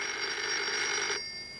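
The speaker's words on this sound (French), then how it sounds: "Ah, c'est ton téléphone." A telephone rings with a steady electronic trill, loud and close, then cuts off abruptly, leaving a faint lingering tone.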